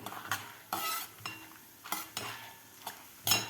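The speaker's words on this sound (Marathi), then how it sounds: "याच तेलामध्ये आता आपल्याला डाळवसुद्धा तळून घ्यायचं आहे" Split roasted chickpeas (dalia) frying in oil in a pan while making a sweet, sour and spicy corn poha chivda, with repeated short bursts of stirring and scraping over a soft, steady sizzle.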